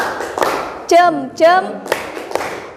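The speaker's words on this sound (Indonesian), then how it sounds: "1, 2, 3. Tepuk jempol." A classroom of students performs a rhythmic clapping chant, sharp hand claps marking the beat between bursts of chanted voices.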